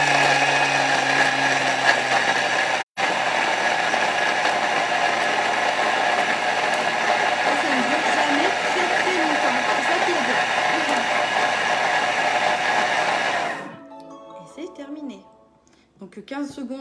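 A kitchen food processor blends speculoos biscuits at speed 10, a loud, steady, close motor whir lasting about thirteen seconds with a brief dropout, then cutting off. A voice speaks over it near the end.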